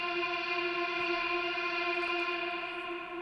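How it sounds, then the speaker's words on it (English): A sustained electronic drone in a pop punk beat, made from a reversed, pitched vocal sound set to the song's key: an even, tonal hum with layered harmonics and reverb, steady throughout and alone. "add a droning sound on the hook, just to give it a nice ambience"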